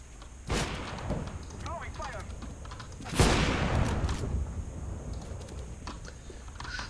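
Gunfire in a video game: two sharp, booming shots with a rumbling tail, the second louder, over a continuous noisy background.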